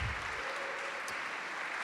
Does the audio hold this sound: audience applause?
yes